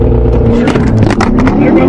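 A C8 Corvette with bolt-on mods accelerates hard in race mode, its engine loud and close as the revs climb steadily, with a few sharp transient pops mixed in.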